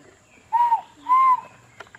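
A person whistles two loud, clear notes in imitation of a great argus pheasant call. The second note is longer and rises slightly.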